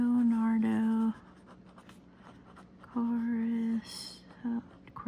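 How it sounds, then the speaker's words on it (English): Faint scratching of a pen writing by hand, soft and continuous in the quieter gaps between stretches of a woman's close speech. "let me write this down"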